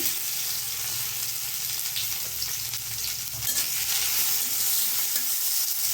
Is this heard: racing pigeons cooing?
no